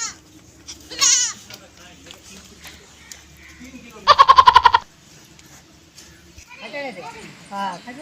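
Goats bleat in a village setting, with a few faint calls under a nearby voice and a sharp rapid burst of sound partway through. Children and adults talk around it.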